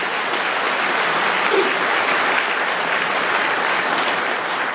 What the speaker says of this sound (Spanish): Vamos, dar un aplauso al Señor ahí por la vida del pastor.